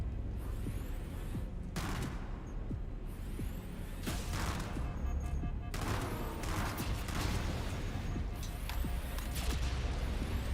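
Sustained gunfire in the shooter game Operation: METEORITE, a loud dense barrage of rapid shots with bursts and impacts running continuously throughout and no talk.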